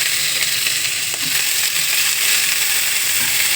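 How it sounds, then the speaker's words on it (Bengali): Ingredients for fried rice, carrot among them, sizzle steadily in hot oil over a lowered gas flame, a continuous close hiss with a few faint stirring clicks and no talk. "গ্যাস কম করে দিয়ে এবার ভেজে নেব"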